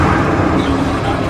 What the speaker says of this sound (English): I wonder if you can still start it with the key. Yeah, looks like you can.